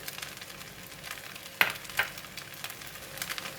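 Rice vermicelli stir-frying in a pan with Chinese parsley, a steady close sizzle broken by a couple of sharp scraping clinks from the utensil against the pan.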